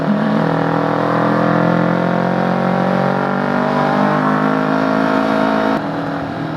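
A Yamaha YZF-R3 motorcycle engine with about 20,000 km on it revs steadily and loudly up close, a sustained layered drone that drops slightly in level near the end.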